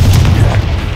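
A Confringo fire spell in Hogwarts Legacy bursts as one deep, loud boom that rumbles and holds steady for about a second, with no talk over it.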